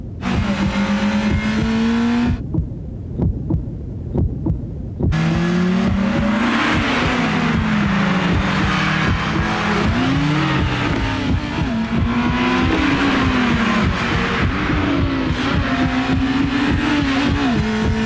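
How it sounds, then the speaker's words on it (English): An Acura RSX with 200 horsepower accelerates hard in a television commercial, its engine revving through rising and falling gear pulls with tire noise, loud and close, interrupted by a short break, and no voices. "200 horsepower Acura RSX."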